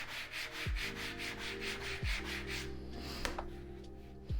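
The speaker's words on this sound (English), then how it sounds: "you can take your sanding sponge and go along." Wood being rubbed with a sanding sponge in steady back-and-forth strokes, a continuous close scratchy rasp with a rhythmic pulse and a few sharper knocks.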